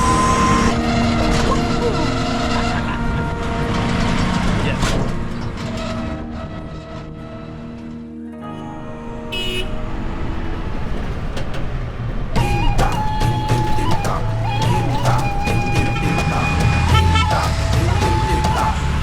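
Busy traffic on the streets of an Indian town near the Ganges, with cars and engines rumbling, horn-like tones and clatter that dip briefly midway before building up again, and voices faintly mixed in.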